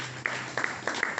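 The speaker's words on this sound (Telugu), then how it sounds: "కొడదాం చప్పట్లు" A few scattered hand claps from a church congregation, several sharp separate slaps spread over a second, fairly faint with no talk.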